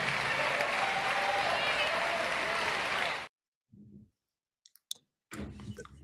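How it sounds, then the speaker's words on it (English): A round of applause fills the first three seconds of a live political address honoring Jonathan Jackson, dense clapping mixed with voices, then cuts off abruptly, leaving brief thumps and clicks amid near silence. "Give Jonathan Jackson another great round of applause for delivering our family message"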